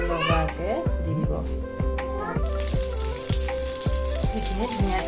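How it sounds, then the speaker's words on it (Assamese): Flattened chana kebabs fry in a pan with a continuous crackling sizzle, partly masked by an adult talking and children's voices nearby. "এইখিনি ধুনীয়াকৈ মই ভাজি আছোঁ"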